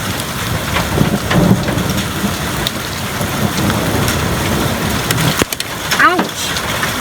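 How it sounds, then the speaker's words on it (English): Hail pounding down hard during a thunderstorm, a dense, loud steady roar of ice striking surfaces, with a brief voice near the end. "Ooh, it's coming down hard. It smells like hail."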